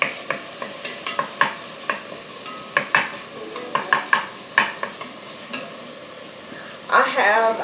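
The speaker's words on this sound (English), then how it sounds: "Just going to stir this for 2 or 3 minutes and let the onion soften a bit" Onion sizzles steadily in a hot pan while a utensil stirs it, making a run of sharp scraping clicks and knocks against the pan, close and fairly quiet.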